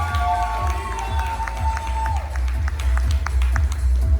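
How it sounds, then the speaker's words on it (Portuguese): Audience at a Portuguese-language educational lecture on teaching strategies for autistic students, crowd noise and cheering with scattered claps and shouts, fairly loud and continuous, with some voices mixed in. "Salve de palmas."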